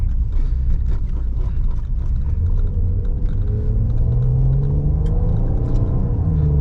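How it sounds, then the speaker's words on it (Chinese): A 2015 Maserati Ghibli S V6 rumbles from inside the cabin as it downshifts, with the engine note steadily rising as it revs. "哇，它的降档，还可以1号牙。"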